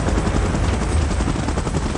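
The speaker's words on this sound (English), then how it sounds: "Chopper in position." Helicopter rotor chopping in PUBG Mobile gameplay, a steady, loud, close drone with dense low thumping throughout and no talk.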